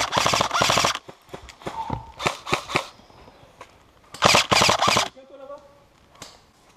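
Airsoft guns firing rapid bursts during an outdoor skirmish game, loud close volleys of quick clattering shots in several groups with pauses between, while players shout in between.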